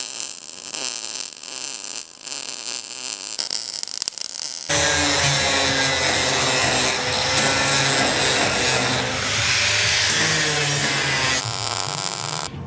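Hobby welder working on metal in a home workshop, a steady loud crackling and hissing that starts abruptly partway through and continues without pause, following a quieter stretch of low rumbling noise.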